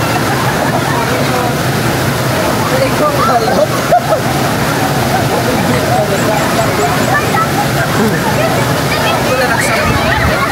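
Water sloshing and splashing in a cold stream, continuous and fairly close, with a busy crowd of people chattering and calling out underneath throughout.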